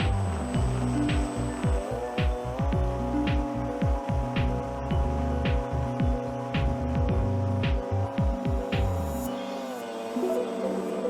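A Cessna 182 engine drones steadily in flight, a loud continuous throbbing hum with dense harmonics that shifts slightly in pitch near the end as power eases off.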